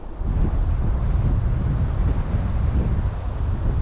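Steady, loud wind buffeting the microphone, a continuous low roaring rumble with no pauses, heard alone throughout.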